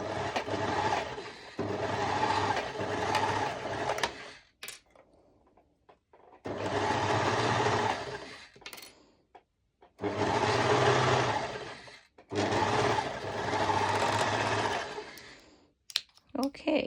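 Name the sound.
sewing machine stitching a twisted knot skirt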